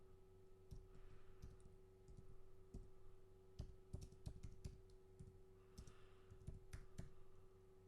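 Keys clatter on a computer keyboard in uneven bursts of typing, close and fairly quiet over a steady low hum, with short pauses between runs of clicks.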